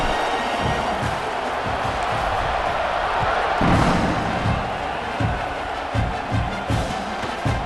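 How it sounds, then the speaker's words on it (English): A stadium crowd in the video game EA Sports College Football 26 buzzes with a loud, steady roar and scattered dull thumps. "this crowd is buzzing after that last score"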